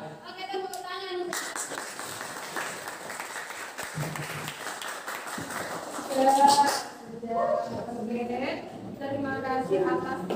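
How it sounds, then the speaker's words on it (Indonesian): Children clap in a classroom, a broad burst of hand claps filling the room, mixed with voices and music-like tones, rising briefly louder near the middle before settling under continued chatter. "Oke, tepuk tangan."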